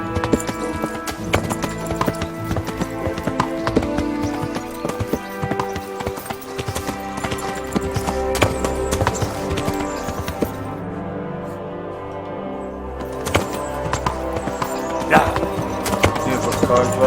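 Horse hooves clip-clop in a steady, rhythmic trot in the video game Kingdom Come: Deliverance, close and continuous across the clip over quieter game ambience.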